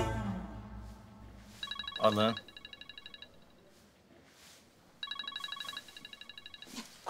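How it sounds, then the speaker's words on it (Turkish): An electronic telephone ringtone sounds in two patterned bursts of rapid chirping pulses, separated by a pause, while voices talk and breathing sounds occur around it in an indoor television-drama scene. "Kusura bakmayın, şu telefona bakmam lazım da."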